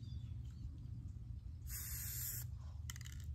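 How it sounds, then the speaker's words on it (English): A spray can paints skateboard caps, giving a short, bright hiss of spray that lasts under a second, then a brief second burst, over low background rumble. "I'm gonna spray paint the caps"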